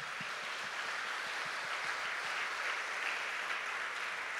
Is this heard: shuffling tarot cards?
no